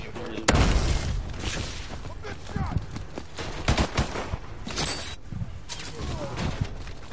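Rapid video game gunfire in a multiplayer shooter, bursts of loud shots and booms going almost constantly, mixed with players' voices talking over the action.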